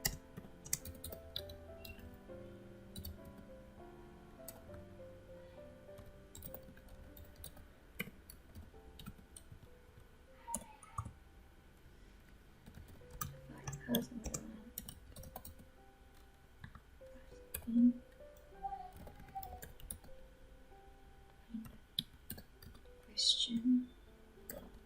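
JavaScript code is typed on a computer keyboard in quiet, scattered bursts of light clicking that continue for about twenty-five seconds. A few soft, brief sounds break in now and then.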